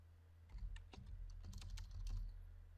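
Typing on a computer keyboard while editing a script: a quick run of soft, close key clicks in an irregular rhythm against a low steady hum, no talk.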